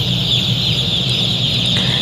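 Dense, steady chorus of broiler chickens clucking and peeping inside a closed-system poultry house, a constant flock murmur with a continuous fan-like hum underneath, no talking.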